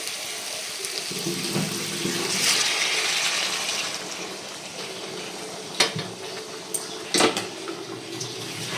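Hot water from a bowl pours into a pan of simmering potato curry, a steady rushing splash lasting a few seconds, followed by quieter clinks of metal utensils against the pan.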